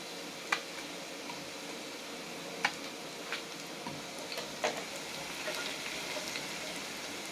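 Cut green chillies frying with garlic in a pan for cauliflower curry, a soft steady sizzle with scattered sharp pops and crackles, close but fairly quiet, no talking.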